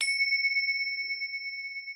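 A meditation bell struck once near the start, its clear bright tone ringing on and slowly fading while sustained over the whole moment, alone with no voices.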